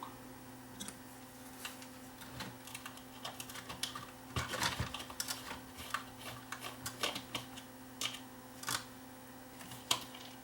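Small screws being backed out of the speaker circuit board inside an iHome Bluetooth clock radio speaker, heard as a series of faint, close clicks and ticks with a steady low hum underneath.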